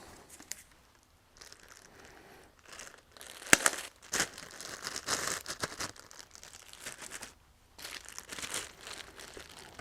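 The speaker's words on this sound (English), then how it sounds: "I'll just put them all back in their plastic bags" Dahlia tubers being slipped back into plastic bags make bursts of crinkling and rustling that start and stop irregularly, close by and fairly quiet, with short gaps between handlings.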